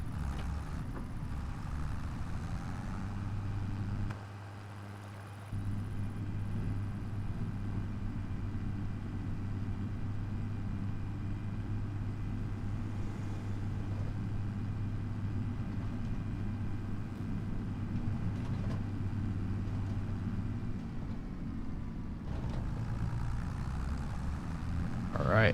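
Tractor engine in Farming Simulator 25 on the Riverbend Springs map, a steady low idling drone that runs for most of the stretch, with someone talking over it now and then.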